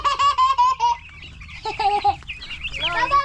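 Broiler chickens moved into a free-range area, clucking in a run of repeated, rhythmic calls with a busy flock murmuring underneath, fairly close and loud throughout.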